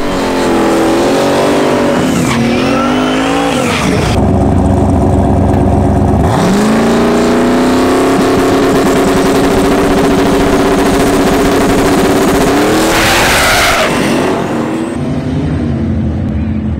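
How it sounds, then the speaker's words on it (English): Boosted Chevrolet Camaro on a drag strip launching at the track, a loud roaring engine with rising revs and sharp gear-change dips, then a wailing pass that tails off near the end. "So I'm gonna go up there now and make my first hit of the year in the Camaro."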